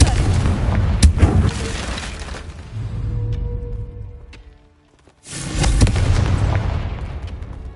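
Confringo blasting spell explosions in the Hogwarts Legacy video game, loud booming bursts with crackling debris at the start, a quieter rumbling lull, then a second powerful blast near the end that rings out.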